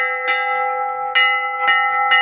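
A metal temple bell is struck four times in an irregular rhythm, each strike ringing out with a bright, sustained metallic tone that keeps humming between hits, loud and close.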